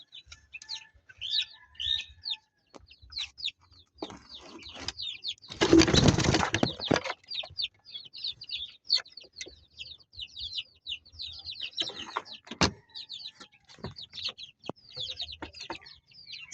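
Chicks about seven weeks old chirp steadily in quick, high peeps throughout. A short burst of wing flapping rises in the middle.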